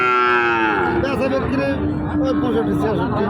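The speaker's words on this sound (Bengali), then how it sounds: "এই পাশটাতে আরও কিছু গরু আছে সেগুলো অবশ্যই আপনাদেরকে দেখাবো" Cattle at a large livestock market in northern Bangladesh: one loud, close, drawn-out moo opens, followed by lower lowing from the herd amid faint crowd babble.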